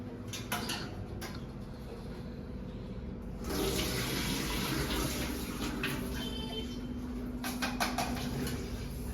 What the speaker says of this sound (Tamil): கழுவி ஊற போட்டுடலாம் அரிசி கழுவி ஊற போட்டுட்டு